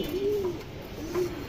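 A silver male pigeon gives two short, throaty coos close by, the second following the first after a brief pause.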